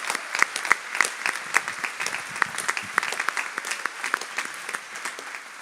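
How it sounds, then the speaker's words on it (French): Audience applauding volunteers from Paris at a Radio Maria gathering, a sustained patter of many hands at a fairly soft, distant level, with a few sharper claps standing out. "Oui, on peut vraiment les applaudir."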